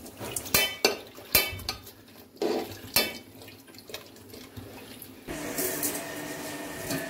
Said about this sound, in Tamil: இப்போ அதை நல்லா மிக்ஸ் பண்ணணும்